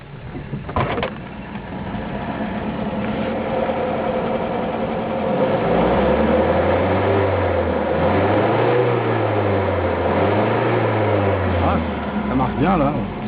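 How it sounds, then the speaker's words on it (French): Engine of a 1957 Citroën DS 19 running steadily close by, a low idling drone with a slowly wavering rumble that swells in the second half; a voice speaks briefly at the start. "mais écoutez le moteur"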